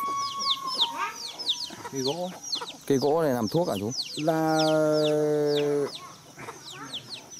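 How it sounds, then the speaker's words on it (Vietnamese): Flock of free-range chickens in a forest in northwest Vietnam, with repeated clucks and a rooster's drawn-out call near and moderately loud, mixed with birds chirping and people talking. "Trong này rừng này toàn thả gà đó"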